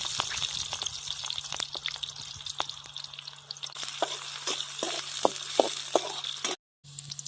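Chili and onion fry in hot oil for a crab dish, with a continuous close sizzle, scattered pops and stirring scrapes, ending with a brief cut to silence before the frying resumes.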